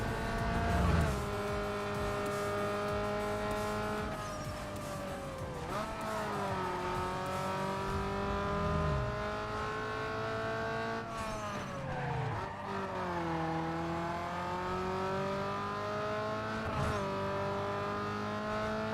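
A Nissan 240SX races through winding corners in Need for Speed Underground 2, its engine droning loudly and rising and falling in pitch through repeated shifts and revs, with brief tire squeals as it holds speed through the bends.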